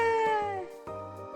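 A catlike woman character in a space-themed video game purrs, giving a short, close, meow-like vocal that slides downward over a soft, low pulsing rumble, heard alone with no other talk.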